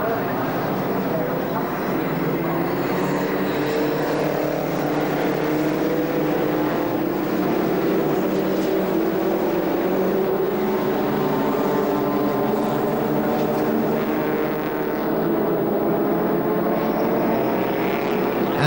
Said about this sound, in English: Competitors coming round in formation behind the pace car